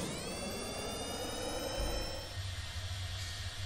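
Jet engines roaring as aircraft take off in Kerbal Space Program, a loud steady whine with rising harmonic tones that settles into a rumbling drone, no voices.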